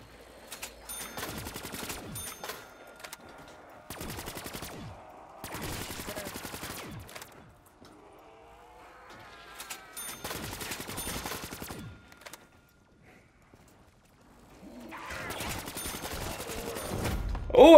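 Gunfire in Call of Duty: Black Ops III, several separate bursts of rapid automatic shots, each lasting one to two seconds with quiet gaps between them and a heavier burst at the end.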